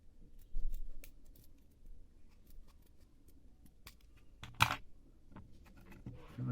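Quiet, sparse snips of small scissors, a few crisp cuts scattered with soft handling noise in between, one sharper snip near the end.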